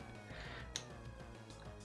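A fat cat Pokémon's cry in Pokémon Platinum, a short, faint electronic meow rising briefly above steady background game music.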